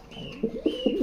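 Pigeons in a breeding loft coo softly in a steady series of low, rolling calls, fairly close and alone without talk.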